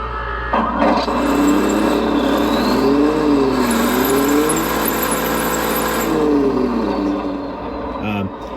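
A 1/9 scale RC Abrams tank from 21st Century Toys, upgraded with a Heng Long TK-7.0 controller, runs its drive motors with a steady electric whine and rising, falling motor tones, close and continuous.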